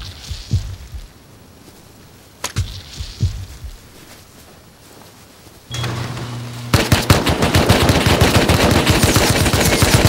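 An M2 heavy machine gun fires in a farm-and-neighbours video game: a few sharp single shots at first, then a long, loud, rapid sustained burst of automatic fire.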